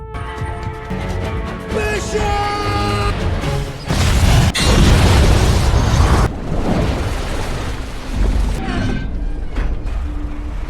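A deep, booming bomb explosion in an action film erupts and roars for a couple of seconds, rumbling loudly over a tense musical soundtrack before fading back under the music.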